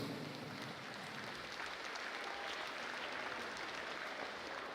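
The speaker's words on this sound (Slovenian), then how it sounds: "En aplavz za vse zbrane na plesišču." Applause at a secondary-school graduation ball in Slovenske Konjice, honouring the graduates and parents on the dance floor: a steady, fairly soft wash of many hands clapping, heard from some distance.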